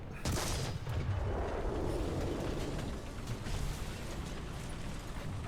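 Tank gunfire in the War Thunder video game: a heavy, booming blast near the start rolls into a dense, sustained rumble of explosions and mechanical noise that stays loud throughout.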